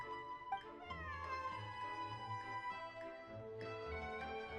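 Cat meows in the Genshin Impact video game, drawn-out tonal calls with sliding pitch, set over a steady game music bed with no talking.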